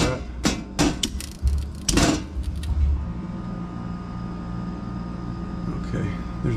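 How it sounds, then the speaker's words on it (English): An air conditioning condenser unit outside a garage kicks back on with a few loud thumps and clatters, then settles into a steady, broad mechanical hum and rumble; a person talks at the start. "I just got a whole bunch of noise from the condenser unit on the outside of the garage"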